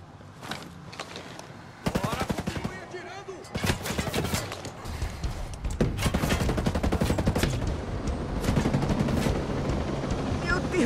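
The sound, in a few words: gunfire in Ghost Recon Breakpoint video game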